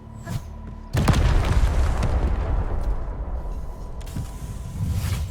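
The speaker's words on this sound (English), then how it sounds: "I give that explosion a 10 out of 10" A big explosion in the game Arknights: Endfield, a sudden deep boom that rolls on as a long, loud rumbling blast, preceded by a faint short pop.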